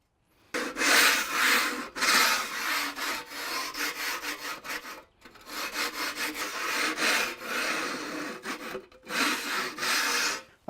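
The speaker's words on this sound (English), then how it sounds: "take a 14-inch scraper and just scrape off any imperfections or any excess material" A 14-inch scraper rasps across an acrylic overlay in long, gritty strokes, with a few brief pauses between passes and no talk.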